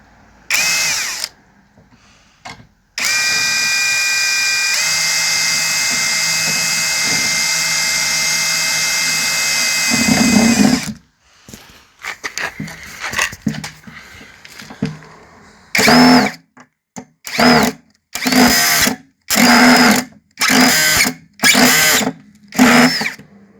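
A power drill drives the last screw into wood with one long steady whine, then a string of short, loud bursts, each trigger pull separated by brief silence.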